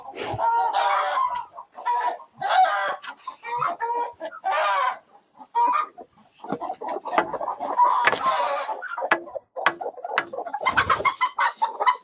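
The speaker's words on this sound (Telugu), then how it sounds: "జాతి కోళ్ళు మేపుతున్నామండి." Native country chickens, hens, roosters and chicks, clucking on a farm, with repeated close clucks and calls in uneven bursts and some cooing birds mixed in, without talk.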